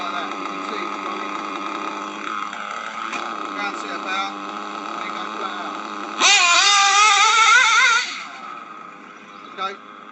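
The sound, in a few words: tuned racing engine running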